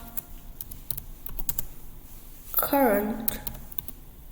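Scattered keystrokes on a computer keyboard, close and moderately loud, while a voice speaks briefly partway through.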